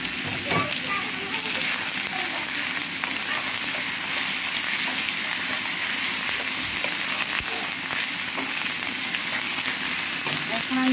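Chili frying in a pan for a quick home-cooked dish, a steady, loud, broadband sizzle that runs unbroken throughout with light clicks of stirring.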